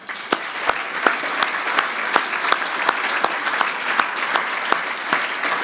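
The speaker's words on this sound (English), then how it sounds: "For that, this entire room must applaud you." An audience in an awards hall honoring a retiring judge claps steadily and loudly, with sharp individual claps standing out over a dense, continuous wash of applause.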